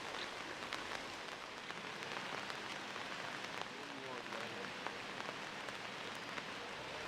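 Rain falls steadily in misty hills on the road to Malakkappara, a continuous soft patter and hiss of drops on surfaces, faint and even throughout.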